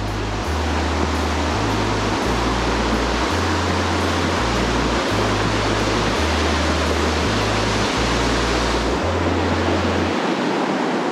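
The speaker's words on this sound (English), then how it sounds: "Coming up on Noisy Creek." Noisy Creek rushes beneath an old bridge on a hike near Baker Lake, a loud, constant broadband roar of moving water that fills the whole stretch without a pause.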